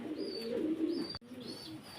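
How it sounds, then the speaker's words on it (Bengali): Soft, low cooing from a male Mundian pigeon rolls on steadily, with a brief thump near the middle and faint high bird chirps above. "এখানে এক পিস কোয়ালমন কবুতর আছে, মুন্ডিয়ান মেল"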